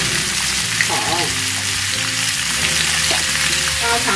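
Fuzzy melon and pork ribs stir-fry in a hot wok with a loud, steady sizzle and occasional scraping stirs, close up and continuous.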